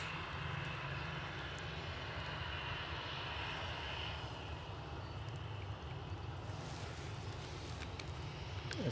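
Airliner jet engines, from Delta and EasyJet planes at an airport, make a steady broad roar in the distance, with some wind noise and no talk.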